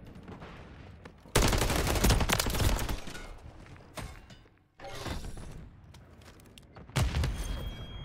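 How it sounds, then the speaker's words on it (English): Holger 26 burst fire in the video game Modern Warfare 3: loud, dense packs of rapid gunshots come in three separate bursts a couple of seconds apart, with quieter mechanical clatter between them. "It's like every couple seconds there's a pack of bursts."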